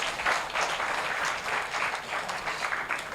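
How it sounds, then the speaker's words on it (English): A crowd applauds steadily at a book launch, a dense wash of many hands clapping at an even level throughout, fairly close and without pause. "Let's give her a round of applause."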